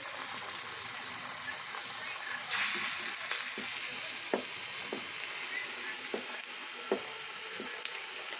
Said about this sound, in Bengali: আস্তে আস্তে করে ছোট ছোট করে তেলে ছেড়ে দিই